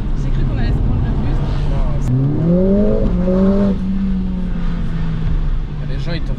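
A Mercedes CLA45 S AMG engine pulls hard under acceleration from inside the car, its rising drone climbing in pitch through a gear before settling into a steady cruising hum.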